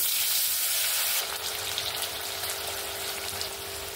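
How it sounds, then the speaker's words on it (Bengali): Steady, loud sizzling of cut potatoes frying in hot oil after fish, a dense crackling hiss that continues throughout, close up. "আলু যে কেটে রেখেছি আলুগুলোকে ভেজে নেব।"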